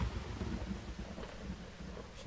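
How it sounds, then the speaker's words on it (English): Rain with thunder in a music video, a dense low rumble under steady hiss of falling rain, continuous and fairly faint without speech. "I love rain in a music video."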